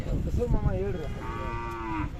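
A single sustained moo from Khillar cattle at a fair in Athani, Belagavi, close and clear, starting low and rising to a steady tonal bellow that holds for over a second amid faint fairground murmur.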